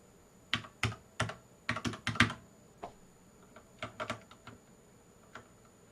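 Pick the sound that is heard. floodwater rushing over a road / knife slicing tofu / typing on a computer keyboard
typing on a computer keyboard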